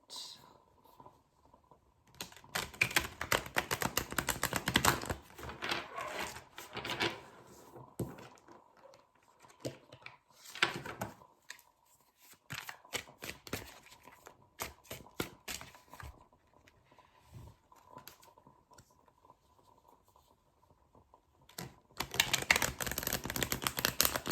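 Tarot cards riffle and slap together in repeated bursts of crisp shuffling, close by, separated by quieter pauses, ending with another flurry.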